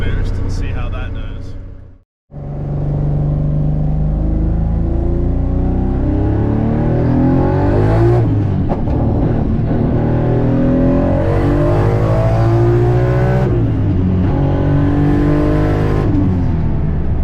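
Car engine accelerating hard with a little turbo boost added at the lowest boost setting, loud and close, with a long rising pull. A brief cut near two seconds is followed by repeated rising sweeps as the engine shifts through gears.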